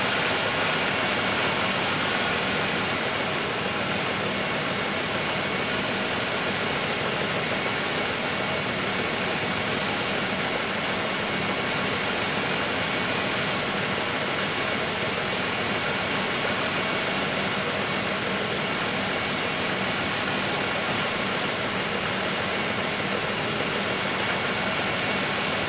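A 1995 Oldsmobile with the 3800 engine idles steadily throughout, a continuous close mechanical hum and drone with no voices and no change in pace.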